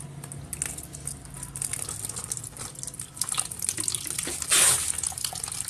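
Ordinary tap water poured into the radiator of a Honda CBR 150 motorcycle as an emergency top-up: a steady, fairly close splashing trickle that swells into a louder gush near the end.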